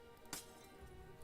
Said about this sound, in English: It shatters into pieces against the wall.